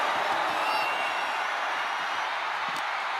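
Arena crowd cheering during a WWE 2K25 wrestling match, a dense continuous roar at steady loudness that fills the whole stretch, with faint scattered knocks underneath.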